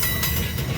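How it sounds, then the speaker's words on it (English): A six-wagon freight train rolls in on a secondary line, giving a steady loud rumble with rhythmic wheel clatter and no talk. "Train is in, 6 wagons on the secondary line"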